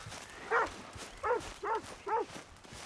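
A dog in the game Red Dead Redemption 2 barks four times, the first bark alone and then three in quick succession, at moderate loudness over faint background ambience.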